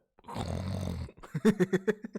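A person imitates snoring with the voice, a long rough drawn-out snore followed by a run of short rhythmic snorting pulses, close and fairly loud, with no other talk.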